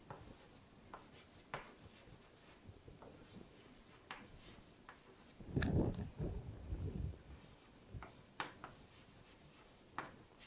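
A marker writes on a board during a lesson on heap data structures: irregular short squeaks and taps of strokes, with a louder rubbing stretch midway, near and quiet with no talking.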